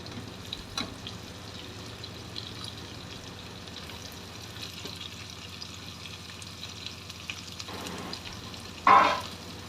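Chopped ridge gourd pieces cook in a pan while a ladle stirs them, giving a low steady frying hiss with a few soft scrapes and one brief louder clatter near the end.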